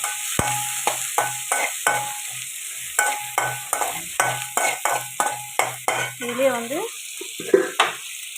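Dried fish frying in a pan, rapid rhythmic scraping stirs over a steady sizzle, loud and close, with a short squeaky scrape near the end.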